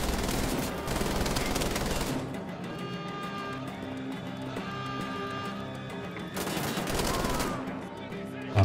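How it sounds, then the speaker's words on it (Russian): Rapid machine-gun bursts in the Wolfenstein shooter game, loud dense gunfire in two long volleys separated by a quieter stretch with a low background hum and faint tones. "Кто стреляет?"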